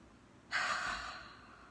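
One deep, audible breath, a sudden inhale that fades gradually, is taken during a guided group breathing exercise, close and fairly soft, with no voices.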